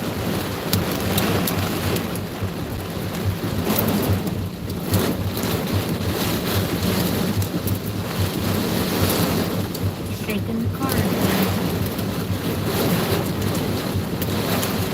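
Inside a car during an intense Kentucky thunderstorm, hail and heavy rain batter the windows in a dense, constant roar with wind noise. Spoken words come through faintly underneath.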